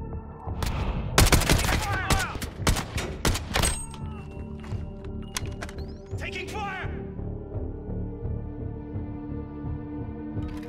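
Gunfire in Call of Duty: Modern Warfare during a 2v2 match, with dense bursts of rapid shots and thuds early on, then scattered single reports and a low rumble, while voices call out over the fighting.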